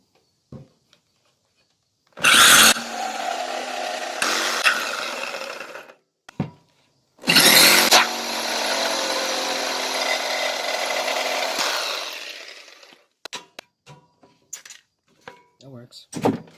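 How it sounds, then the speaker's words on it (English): A power jigsaw cuts through wood in two sustained bursts, each roughly four to five seconds of loud, buzzing, rasping noise, close by, followed by scattered knocks and handling clatter while a landing pad and step are built. "Just grab my jigsaw the rest"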